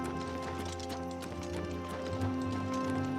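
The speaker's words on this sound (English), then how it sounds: "Oh, I think that's just the guard on the horse." Horse hooves of a mounted guard in the video game Oblivion Remastered, a soft, quick clip-clop rhythm continuing throughout at low volume.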